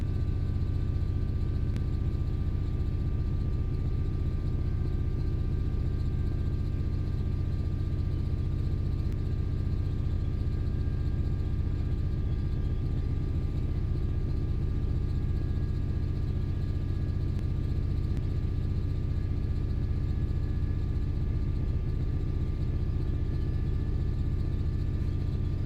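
A Class 66 diesel locomotive at maximum throttle in a train simulator game, a loud, steady, droning engine roar with a constant low rumble and faint tonal whine, no voices.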